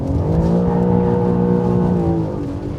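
BMW M4 CS engine held on the rev limiter, a loud, close, sustained high-revving tone with rapid stuttering cut-outs that drops away slightly near the end.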